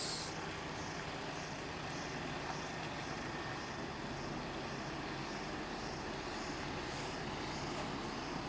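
A Palala coach bus pulls out of a bus terminal on a morning departure toward Jakarta, its engine a steady, continuous rumble with broadband road and motor noise and no one speaking.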